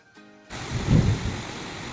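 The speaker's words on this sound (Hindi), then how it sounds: "ये देखिए बारिश कितने तेज हो रही है" Heavy rain with strong wind during a stormy downpour, trees swaying hard outdoors. After a brief quiet start, a dense, steady roaring hiss sets in and stays loud to the end.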